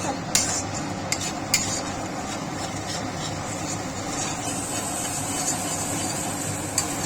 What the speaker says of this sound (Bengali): আঁচটা বাড়িয়ে একটু কিছুক্ষণ নাড়াচাড়া করবে